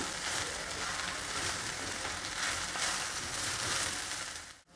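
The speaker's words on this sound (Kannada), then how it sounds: "ಒಗ್ಗರಣೆನಲ್ಲಿ ಹೀರೆಕಾಯಿನೆಲ್ಲ ಹಾಕಿ ಹುರಿದಿದ್ದೀನಿ" Ridge gourd frying in hot oil in a tempering pan: a steady, loud hiss and crackle that carries on throughout and cuts off abruptly at the end.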